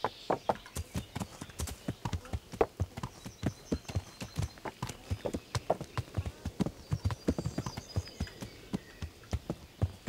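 Horse hooves clip-clop in a steady walking rhythm in Kingdom Come Deliverance, sharp distinct knocks close by, with faint whinnies now and then.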